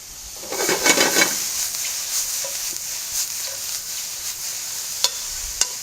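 Mushrooms sizzle and fry in a pan, a steady crackling hiss with a brief louder burst of stirring early on, then continuing softly with a couple of sharp clicks near the end.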